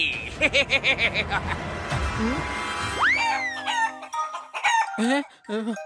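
Cartoon chicken sounds from a boy turned into a chicken: a loud rising crow and bursts of clucking and squawks stand out clearly after a busy stretch of babble and music at the start.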